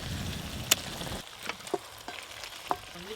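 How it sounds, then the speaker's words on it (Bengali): Fried chicken leg pieces added to cooking masala sizzle steadily in a pan, with a few sharp clinks and scrapes of a utensil stirring over the fry. "এর উপর দিয়ে মাংসগুলো দিয়ে দেবো, ভেজে রাখা লেগ পিস।"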